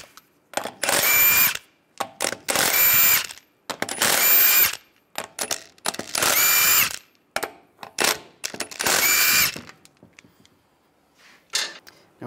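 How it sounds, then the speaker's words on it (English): A power impact tool zips lug nuts off the front wheel of a 2007-2013 Chevrolet Silverado 1500 with a 22 millimeter socket, several loud whirring bursts of about a second each separated by short pauses, close up with no talk. "Now we'll take the lug nuts off."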